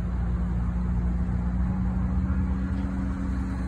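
A 2018 Infiniti Q60 with a V6 twin turbo idling, a steady low hum with a faint mechanical drone, constant and close with no revving.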